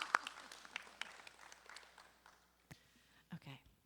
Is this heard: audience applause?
yes